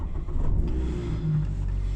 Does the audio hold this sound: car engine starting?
yes